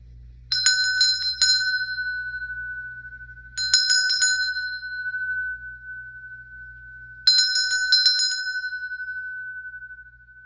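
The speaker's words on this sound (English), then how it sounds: "Let's ring the chakra bell. It's the crown chakra." A crown chakra bell rings three times at even intervals, each strike a bright, clear metallic ping with a quick flutter of onset, then a long sustained tone that slowly fades, close and alone.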